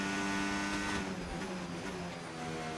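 A Formula 1 car engine in the F1 25 racing game drones steadily at high revs, loud and continuous throughout with a slight shift in pitch partway through.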